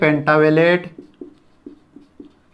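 Pen strokes scratch on paper in a short series of soft, separate marks after a brief spoken phrase, during a nursing class lesson on immunization schedules.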